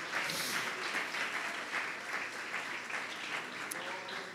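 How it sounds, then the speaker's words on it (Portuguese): A church congregation applauds during worship, a steady, moderately distant roll of many hands clapping that holds evenly for a few seconds. "Aplauda mais forte ao Senhor."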